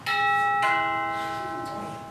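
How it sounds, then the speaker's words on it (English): A doorbell gives two clear chiming tones in quick succession, the second ring sustaining and slowly fading, loud and close with no voices. "before they ring the doorbell"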